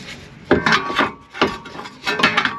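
A brake caliper is tugged off a Nissan Altima with repeated close scraping, grinding pulls of metal against metal, three rough bursts separated by brief pauses, with no talking.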